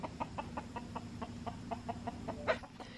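A chicken in a farmyard pen housing pigs and turkeys clucks in a steady series of short, evenly spaced notes, fairly close, over a low constant background hum, with a louder squawk near the end.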